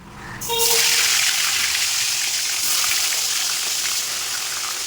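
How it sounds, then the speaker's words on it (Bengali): Loud, steady sizzling of fish frying in a pan, a continuous crackling hiss that starts abruptly and carries on with no talking. "এখানে মাছ ভাজা হচ্ছে আর এদিকে মাছ ভাজা হয়ে গেছে"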